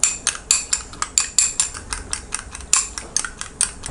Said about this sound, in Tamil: நல்லா பீட் பண்ணிக்கலாம்.